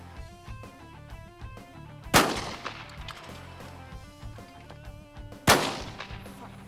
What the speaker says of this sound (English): I love shooting shotgun. I'm not so good at shooting clays going everywhere.